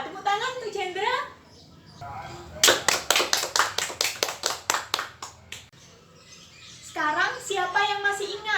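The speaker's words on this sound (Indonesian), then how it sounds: "Tepuk tangan untuk Jendra." Students in a classroom during a maths lesson clap for a classmate with about a dozen sharp, evenly spaced claps in a quick rhythm. Talking comes before and after the clapping.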